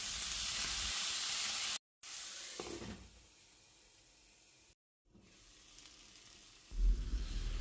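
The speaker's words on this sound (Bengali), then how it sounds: "কড়াইতে অল্প তেল দিয়ে কুমড়ো শাকগুলোকে স্বাদ মতন নুন আর হলুদ দিয়ে ভালো করে ভাজা করে নেব" Pumpkin greens with salt and turmeric fry in a little oil in a wok, giving a close, steady hiss and sizzle broken by two brief cuts, with a soft stirring clatter near the end.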